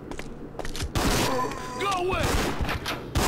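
Sharp gunshots in Resident Evil Outbreak crack out a few times at irregular intervals, mixed with game noise and a shouting voice.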